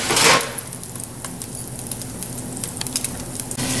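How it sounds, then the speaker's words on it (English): Swedish meatballs browning in a pan give off a steady crackling sizzle with scattered pops, close and moderately loud throughout. "now my last batch of meatballs is done browning"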